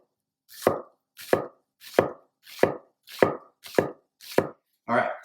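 Red onion being chopped for salsa, seven crisp knife strikes on a board at an even pace, close and clear, with a final softer scrape at the end.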